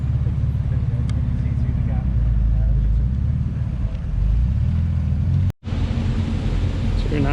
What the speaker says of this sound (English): E-Type V12